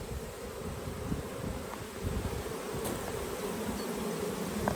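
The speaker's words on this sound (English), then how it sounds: "slowly get them into the hive, they'll all come in like that" Honeybees buzzing as a swarm moves into a hive, a dense continuous close hum with scattered individual wingbeats, no voices.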